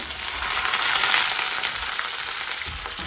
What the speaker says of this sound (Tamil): இப்போ வெங்காயம் வந்து வதங்கிட்டுது